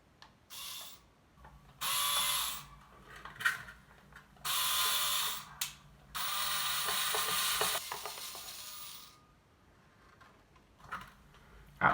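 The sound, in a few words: screwing a part into its mounting on a Strat guitar build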